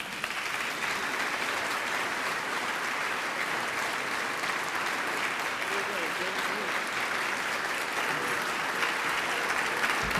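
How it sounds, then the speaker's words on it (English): An audience at a jazz forum and concert applauds in a dense, steady round of clapping that holds evenly throughout, filling the room. "please give him a strong round of applause"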